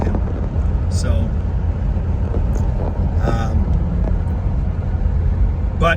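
A 1972 Ford Thunderbird on the road, its steady low engine and road rumble droning throughout with wind buffeting, and a few faint clicks and rattles from inside the cabin.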